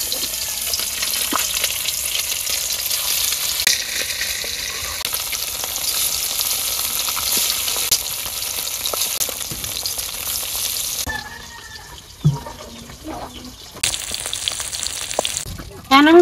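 Eggs frying in oil in a wok, seasoned with turmeric and salt: a loud, steady sizzle that eases after about eleven seconds, broken by a few clinks and scrapes from the pan.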